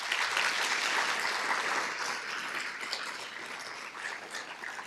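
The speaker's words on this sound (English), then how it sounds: "Let's give them a big round of applause." An audience at the 2024 Sages Over 70 event applauds the sponsors, producing dense, sustained clapping that stays loud across the whole stretch and eases off only slightly toward the end.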